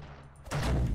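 A single gun shot from a Sherman tank firing carrots in War Thunder, a sudden heavy boom halfway through that rolls into a sustained low rumble, close and loud.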